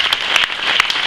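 Audience applause at a municipal New Year's greetings ceremony in Hardricourt, a close, dense burst of clapping filling the room without voices.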